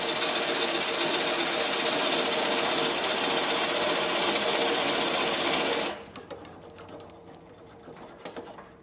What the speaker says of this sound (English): you drill it out using a Forstner bit, less than 500 RPM